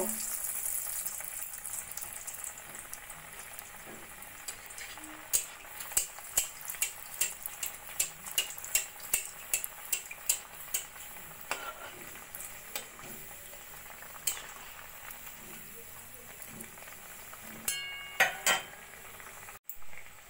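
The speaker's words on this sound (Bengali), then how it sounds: "একইভাবে বাকি ডিমের ডেভিলগুলোও আমি ভেজে নেব।" Bengali egg devils fry in hot oil in a pan, a soft continuous sizzle and bubbling broken by frequent utensil clicks and taps against the pan, with no talk.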